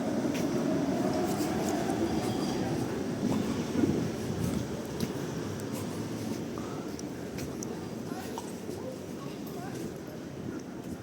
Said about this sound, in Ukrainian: Трамвайчик номер 2